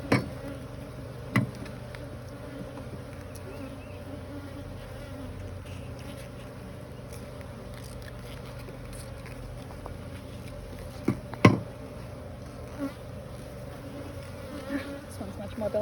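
Honeybees buzz around an open hive during an inspection on an overcast day, a dense continuous drone close by, with occasional clicks and taps of frames being handled.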